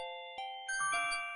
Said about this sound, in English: Ding a ding dong.